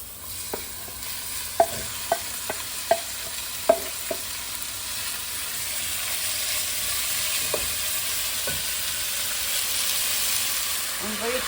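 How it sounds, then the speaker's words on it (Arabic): Onion and garlic sauté in a pan, giving a steady close sizzle with a cluster of sharp spoon taps and scrapes early on, then a smoother hissing fry. "هذا راس البصل والثلاث فصوص ثوم راح اول مرة احمسهم قبل لا اضيف الدجاج"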